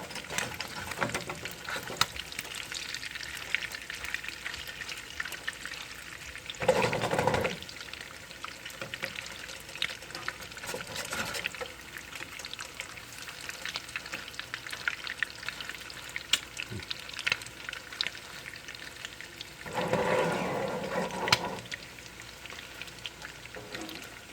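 Herbed crab cakes fry in a hot pan with a steady crackling sizzle, rising into two louder bursts as they are turned with a fish spatula.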